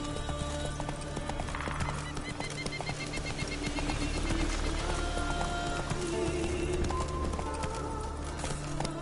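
A horse gallops in Witcher 3: Wild Hunt, with a rapid, steady clip-clop of hooves over a dense game soundscape with music-like tones; no voices.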